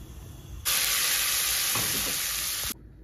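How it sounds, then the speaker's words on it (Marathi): A loud, steady sizzle of hot oil tempering for green tomato chutney bursts in abruptly, holds for about two seconds with faint stirring beneath, then cuts off. "इथे मस्त अशी फोडणी देऊन झालेली आहे या टोमॅटोच्या चटणीला"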